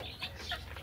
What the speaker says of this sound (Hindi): ये जी मुर्गा है माशाल्लाह